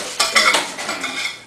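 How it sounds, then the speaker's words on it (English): Dishes and cutlery are washed after a dinner in a home kitchen, with quick metallic clinks and clatters of silverware against plates, close and fairly loud, with no talking. "Wanna wash some dishes?"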